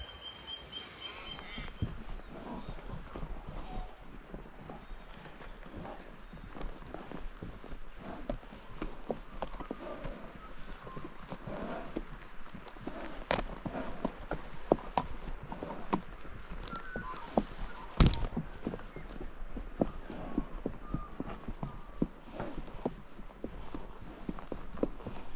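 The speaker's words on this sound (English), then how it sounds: "This is the second time we've brought the horses here." Horses on a high country trail ride walk along with a steady, uneven clip-clop of hooves. Outdoor rustle and movement sit underneath, and a sharp knock sounds near the middle.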